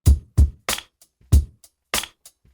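Dry drum hits in a short syncopated pattern: deep kick thumps mixed with snappy snare strokes and a few soft ghost taps, played alone.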